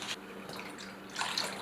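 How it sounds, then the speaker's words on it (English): Cold water poured into a mixing bowl for a 1950s Jello salad, a soft continuous splashing pour that swells near the end, quiet and close with no talking. "Then we add 1/2 cup of cold water."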